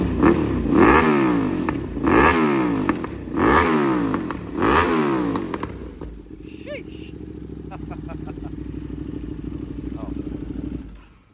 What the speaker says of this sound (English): We'll do some revs here for you guys.